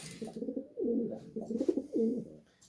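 Several rounded pigeon coos in a steady phrase-by-phrase rhythm, near and fairly loud, with no voices over them.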